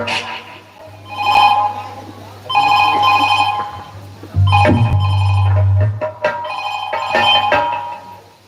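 A telephone ringing repeatedly in an Indian Maithili dance-party comedy performance, loud bursts of ringing with voices talking and a steady low hum underneath.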